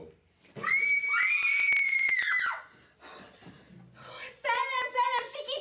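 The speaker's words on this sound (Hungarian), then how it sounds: "Szellem, sikító szellem!" A ghost character in an amateur theatre stage play lets out a long, loud, high scream that fades out, followed by further shrill cries and a voice in the latter part.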